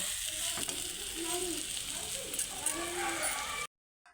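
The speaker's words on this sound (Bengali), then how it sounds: "এবার চিচিঙ্গা ভাজিটা আমি ঢেলে নেব" Snake gourd fry is scraped and tipped out of a frying pan, a soft sizzle with light spatula scraping and stirring for a few seconds before it cuts off.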